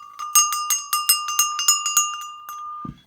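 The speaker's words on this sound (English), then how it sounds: "an old German goat bell." An old German goat bell, the kind worn around a goat's neck, rings alone in a quick, uneven series of about a dozen bright metallic clangs, close and clear, before fading out.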